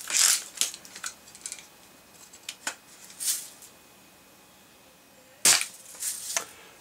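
A Daisy Red Ryder BB air rifle fires at a chemistry book target, giving sharp, crisp snaps and impacts, several scattered single shots over a few seconds with quiet gaps between them.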